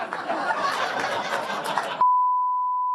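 A sharp, steady censor beep cuts in suddenly on a TV talk show after about two seconds of audience laughter and chatter, then holds loud and unbroken to the end.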